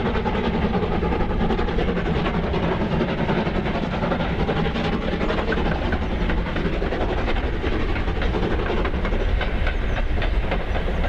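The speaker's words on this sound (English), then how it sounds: "Another energetic run past at Burrs." A steam tank locomotive pulls its train energetically past at Burrs, a loud, steady rush of exhaust beats and rolling wheel clatter held close throughout.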